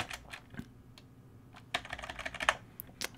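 Computer keyboard keys tapped in short quick bursts while a folder name is typed, close and clear, with brief pauses between clusters of clicks.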